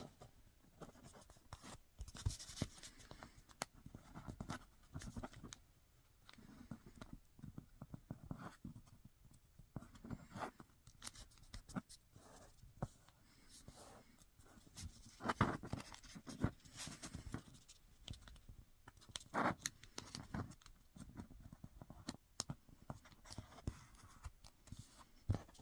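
Paper folded by hand into an origami kite fold for a fluted diamond ornament, with soft crinkling, rustling and creasing taps in an irregular close rhythm, fairly quiet throughout.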